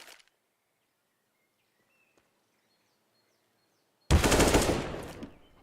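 Automatic gunfire bursts out in an esports video game match after a long near-silent stretch, a loud dense rattle that gradually tails off.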